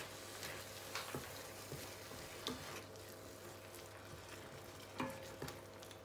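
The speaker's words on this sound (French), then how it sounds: "Ensuite, je vais rajouter la tomate. Remuer un peu." Tomato and crushed pepper frying over low heat in a pan while being stirred for a fonio peanut-sauce mafé: faint steady sizzle with occasional light scraping stirs and clicks, no voices.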